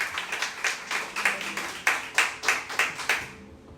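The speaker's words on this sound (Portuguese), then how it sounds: "aplauda o Senhor com o seu melhor" A church congregation clapping in rhythm during a service, regular sharp claps about three per second, fairly close and lively, fading out at the end.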